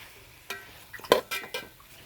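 Tomatoes being stirred into biryani masala in a pot at home, a few separate scraping and clinking strokes of a utensil against the pot, the loudest near the middle, with quiet gaps between them.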